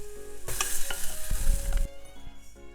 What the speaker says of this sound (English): Then I'm gonna stir fry this very lightly.